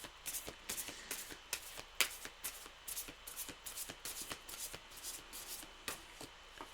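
A deck of playing cards being riffle-shuffled again and again, with quick bursts of crisp fluttering snaps in a steady rhythm, close by and fairly quiet, with no talking.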